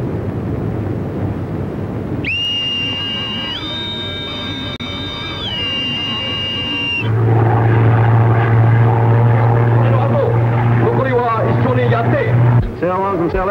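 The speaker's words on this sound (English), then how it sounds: "Enemy aircraft approaching." A Second World War-era aircraft engine drones loud and steady, starting under other sounds and then swelling into a heavy roar that holds for several seconds before cutting off.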